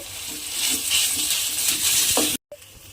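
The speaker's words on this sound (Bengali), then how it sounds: "তেলের মধ্যে আলুটা দিয়ে একটু নাড়াচাড়া করে নিয়েছি।" Grated potato sizzling in hot oil as it is stirred, a steady close frying hiss with soft scraping, ending in a brief cutoff of silence.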